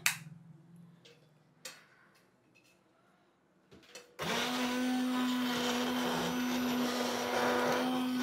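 Raw mango goes into a mixer grinder for spicy mango jelly. A few light clicks and taps come first, then the grinder starts abruptly and runs as a loud, steady whir until the end.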